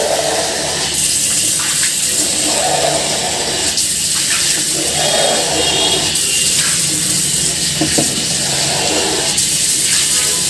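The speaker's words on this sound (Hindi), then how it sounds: "तो यहाँ पे अच्छा से पानी से धो देंगे" Water rinsing a toilet during bathroom cleaning, a loud, continuous rush and splash that swells and eases in waves over about ten seconds, close by.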